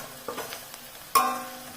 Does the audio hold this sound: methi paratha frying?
yes